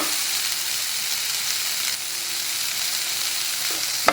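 Chutney ingredients, roasted gram among them, sizzle in a hot pan as a steady, close frying hiss that runs throughout, with a faint scrape near the end.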